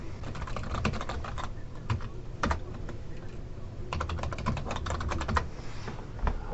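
Close, rapid tapping of a computer keyboard while entering a username and password, in quick bursts with short pauses.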